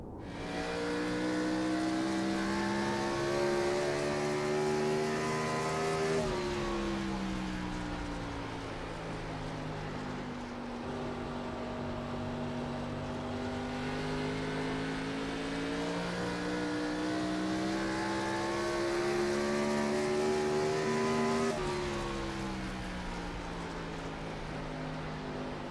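A Gen 4 stock car in the iRacing sim lapping New Hampshire, its V8 engine droning steadily at high revs, pitch dipping sharply on lifts into the corners and climbing again as the throttle reopens, loud and continuous with no talk.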